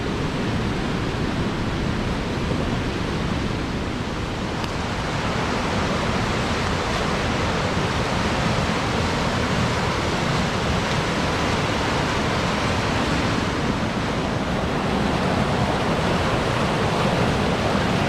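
A high river in full flow gives a broad, constant roar of rushing water, loud and unbroken from start to finish with no voices.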